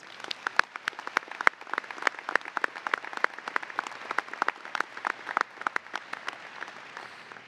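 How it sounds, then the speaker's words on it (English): Applause breaks out for Mentorship Award winners at a medical school commencement, many individual claps crisp and distinct in a large hall, moderately distant and steady for several seconds without speech. "Please give a round of applause for our Mentorship Award winners."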